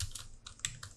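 Keys on a computer keyboard are tapped in a quick, close burst of about four or five crisp clicks, with no other sound.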